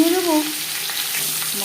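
A chitol fish head frying in oil, with a dense, close sizzle that runs continuously and a brief tonal squeak at the start.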